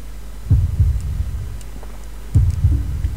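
Two deep, muffled heartbeat thumps used as a sound effect in a tribute stage performance, spaced about two seconds apart over a low steady hum.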